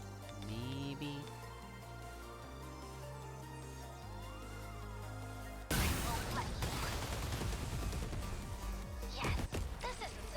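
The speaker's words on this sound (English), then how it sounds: "Multi-rocket launchers." Multi-rocket launchers firing in 13 Sentinels: Aegis Rim, a sudden loud burst of rapid crackling blasts and impacts that cuts in over quieter music and keeps rattling to the end.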